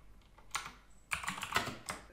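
Fingers tap out a name on a computer keyboard in two quick bursts of clicky keystrokes separated by a brief pause, close and fairly quiet, with no voices.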